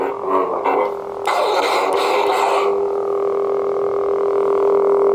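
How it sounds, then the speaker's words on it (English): A Luke Skywalker Return of the Jedi lightsaber sound font ignites with a bright burst and crackle, then settles into a steady, fairly loud electronic hum that continues to the end. "a very, very nice Luke, Return of the Jedi sound font."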